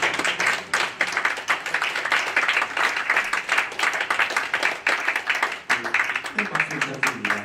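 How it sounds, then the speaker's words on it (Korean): Audience at a 10th anniversary ceremony of a Korean lawyers' association clapping in sustained, dense applause that fills the room, with a voice faintly heard underneath toward the end. "큰 박수 부탁드립니다."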